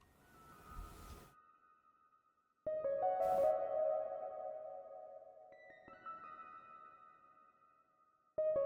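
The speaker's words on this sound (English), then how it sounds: "just a saw wave with a filter, with a little envelope, some hyperdimension for width" Synth saw-wave lead with a filter, light envelope, stereo widening and hall reverb, playing sustained tones that ring out and decay into a reverb tail, alone and fairly quiet.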